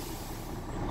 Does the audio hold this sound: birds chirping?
no